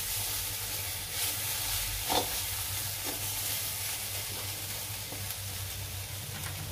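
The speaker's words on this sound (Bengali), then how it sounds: "এই যে ভাজা হচ্ছে, একটা খুব সুন্দর টমেটো ভাজার গন্ধ ছাড়ছে" Tomatoes fry and are stirred in a pan, a steady close sizzle running throughout with a few brief scraping clinks from the stirring.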